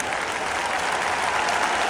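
A concert audience applauds with dense, steady clapping that holds at an even level from start to finish, with no voices rising above it.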